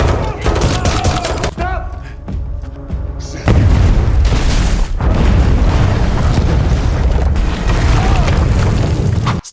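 A bomb goes off in a basement in a film scene: loud booming blasts and crackling debris follow a brief quieter gap, filling the rest of the stretch with dense, sustained rumble.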